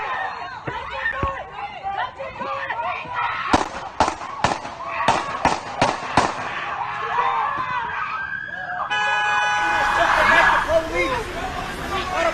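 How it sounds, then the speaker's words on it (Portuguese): Repeated sharp gunshots from a police officer firing at a man's back, a rapid burst of loud cracks in the middle amid crowd chatter and shouting bystanders. "As imagens mostram o policial atirando várias vezes nas costas de Blake."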